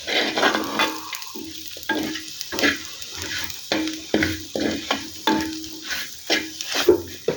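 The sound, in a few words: masala with garam masala frying in a pan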